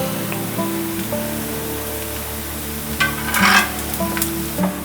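A spicy spread dosa cooks in a pan over a slow flame, giving a steady close sizzle and frying hiss with a brief louder crackle partway through, and no voices.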